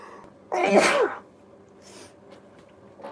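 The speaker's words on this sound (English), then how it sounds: "I'm going to sneeze." A single loud, close sneeze bursts out and fades within half a second, followed by faint breathing and quiet room sounds.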